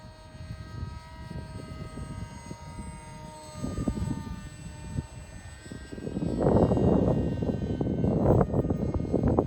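A radio-controlled model plane flies with its engine droning. The steady buzzing hum is distant at first, then swells louder and rougher as it passes nearer. No one speaks.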